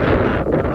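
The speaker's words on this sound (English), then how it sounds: "it's really windy at the moment" Strong wind buffets an iPhone microphone outdoors, producing a loud, rumbling, fluttering roar that dominates the short moment.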